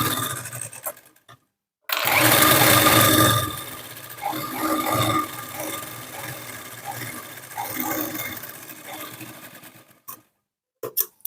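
A sewing machine runs in bursts as it stitches the lining of a blouse beside the piping. The motor whirs and rattles loudly and close by, with short pauses and a brief stop near the end.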